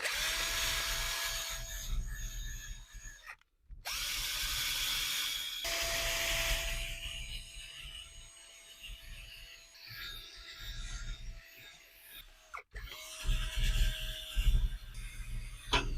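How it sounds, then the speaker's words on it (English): A handheld drill with a rust-cleaning attachment grinds against a car's brake caliper to strip surface rust, whirring in several sustained bursts with short pauses between, close and fairly loud, with rubbing and scraping texture. "on the drill, we're going to take this to the caliper and try to get off as much as of that surface rust as possible"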